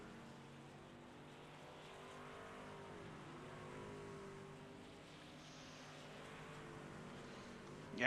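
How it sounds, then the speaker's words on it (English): Several race cars on an oval during the Keep Diggin Stroke Foundation 125 pull off pit road under caution, a steady mid-distance engine drone with layered exhaust tones and a brief louder swell at the very end. "vehicles are coming off of pit road"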